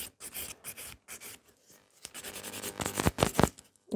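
Gel nails being filed into a coffin shape, giving bursts of close, dry scratchy rubbing strokes that come in quick runs with brief pauses and grow more intense toward the end, with no voice over them.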